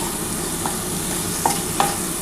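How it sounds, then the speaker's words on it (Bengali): Onion fries lightly over high gas in very little oil, giving a steady close sizzle with a few sharp clicks of a spatula stirring against the pan. "এবার গ্যাসটা জোর করে দিয়ে একটুখানি পেঁয়াজটা ভেজে নিচ্ছি"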